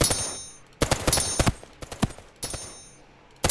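Bursts of video-game gunfire in the shooter OutlawZ, a couple of sharp volleys and single shots spread over a few seconds with quieter gaps between.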